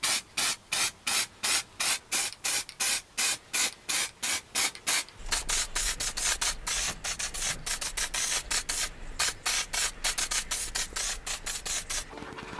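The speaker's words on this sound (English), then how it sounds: "We're going to give them a quick flash over with the silver paint." Aerosol silver paint sprayed onto car parts for a Ford Sierra Cosworth restoration, a string of short evenly timed hissing bursts that give way to longer, denser spraying passes, close and steady, with no speech.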